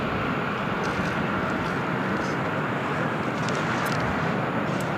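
A United Airlines 757-300 takes off at LAX, giving a steady, broad jet roar heard from a distance that stays constant throughout, with no voices.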